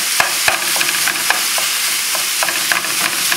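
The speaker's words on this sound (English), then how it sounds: "There's enough fat in most hamburgers that you can saute this with no" Ground beef sautés over a high flame in a dry pan with no added oil, giving a steady loud sizzle punctuated by repeated scraping stirs.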